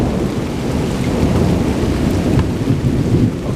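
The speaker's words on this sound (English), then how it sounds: "Or is it just rolling thunder?" Rolling thunder rumbles low and steady through a Chicagoland thunderstorm in late February, with continuous rain hissing over it at close range and no voices.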